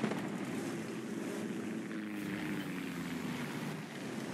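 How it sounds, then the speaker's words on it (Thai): An enemy fighter plane in the War Thunder tank battle game drones steadily past, its propeller engine a continuous mid-distance hum with a slight pitch shift, and no talk. "มันจะเป็นเครื่องบินศัตรูนะที่บินผ่านเราไปตะกี้นี"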